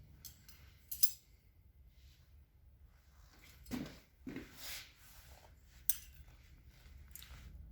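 Scissors blunt-cutting a section of hair in a salon, a few quiet crisp snips and blade clicks spread apart, close but faint under low room noise.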